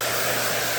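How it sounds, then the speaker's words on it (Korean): Low-temperature hair dryer set to about 60 degrees blowing on hair during a straightening treatment, a loud steady close-up whoosh with a constant motor hum and no voices. "지금 저는 저온 드라이기 약 60도 설정을 했습니다"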